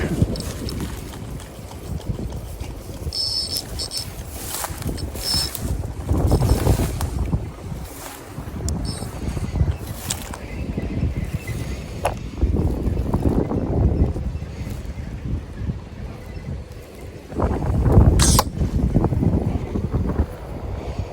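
Strong outdoor wind buffets the microphone in uneven gusts for the full stretch, a rough, roaring rumble that swells and eases, with faint voices barely present beneath it.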